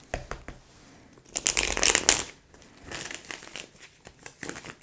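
Tarot cards are shuffled in quick riffling and crinkling bursts close up, with a louder flurry in the middle and softer shuffles around it.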